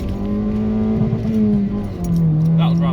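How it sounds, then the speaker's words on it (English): A car engine revs hard and holds near its rev limiter, a loud sustained buzzing drone that dips and climbs again, heard from inside the car on a wet road with a voice talking over it. "this really would not be the last video of the year without a quick limiter bash"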